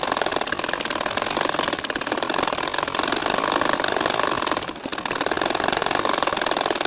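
A sewing machine stitches a nakshi kantha quilt with a fast, even mechanical buzz that runs on continuously, pauses briefly near the end, then resumes, with no talking.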